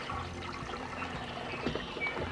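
Water pours from a pipe into a DIY aquaponics tank holding small ditch minnows, making a steady, close splashing trickle that runs without a break.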